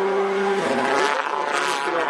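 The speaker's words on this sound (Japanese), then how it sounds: "これは今走っているのは04、去年の仕様のグラベル仕様です。" A Mitsubishi WRC rally car in last year's gravel specification, on gravel tires, roars past at speed with a high revving engine note that rises and shifts, while a commentator talks over it.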